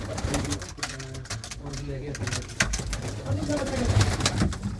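Pigeons in a loft coo in soft, repeated low phrases, close by, with people talking over and between them.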